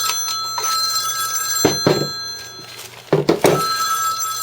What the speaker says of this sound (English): So I got a phone call there.